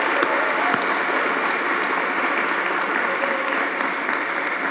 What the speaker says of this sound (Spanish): Denle un aplauso a todos los servidores que fueron a predicar